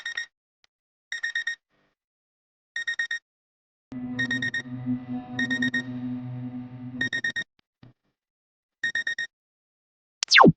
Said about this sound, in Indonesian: Alarm bunyi.